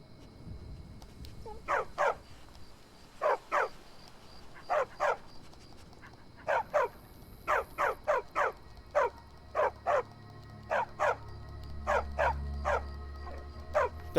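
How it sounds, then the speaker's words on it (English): A big dog in the Skyrim video game barks repeatedly, with short, evenly spaced woofs in clusters throughout, fairly close over a low ambient game hum. "Why is that dog so big?"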